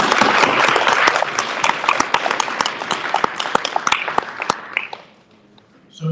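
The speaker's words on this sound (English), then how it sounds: "yourselves a round of applause" Audience applause at a European venture capital industry event, dense clapping from a large room that holds steady and then fades out over the final second, with a few louder claps near the end.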